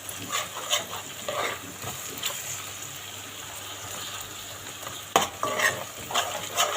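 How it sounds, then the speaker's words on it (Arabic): Food being stir-fried in a pan, stirred with a utensil while it sizzles steadily, with scraping and clattering strokes coming in irregular bursts, close and fairly quiet. "شوحه كويس"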